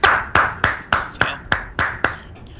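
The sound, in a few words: hand claps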